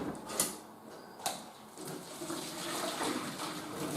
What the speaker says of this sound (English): just wash it through a couple of times with the boiling water